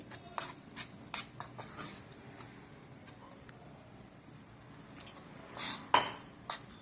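Chili bhaji batter of flour and water being mixed in a bowl, faint scattered clinks and scrapes of utensil against the bowl in an irregular rhythm, with a louder knock near the end.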